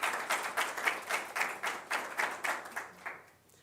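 A conference audience at an awareness day claps together in a rhythmic burst of roughly a dozen close, even claps that fade away toward the end.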